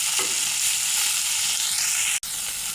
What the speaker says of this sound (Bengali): এই যে দেখুন মাছ ভাজা হয়ে গেছে